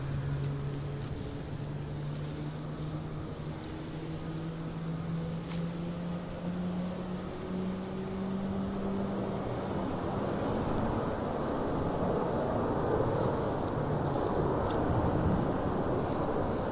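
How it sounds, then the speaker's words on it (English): Aircraft engines spool up at Anchorage's Ted Stevens International Airport. A steady, broadband jet roar grows louder and denser over time, with slowly gliding low tones fading out as the rumble builds. Heard at a distance, with no talk. "So it sounds like somebody else down there is firing their engines up."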